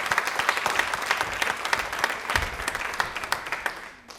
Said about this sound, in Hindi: तालियां प्लीज एक बार जोरदार।